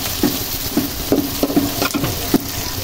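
Whole spices frying in oil in a large kadai for a beef kosha curry: a steady close sizzle broken by repeated scraping stirs, with no voices.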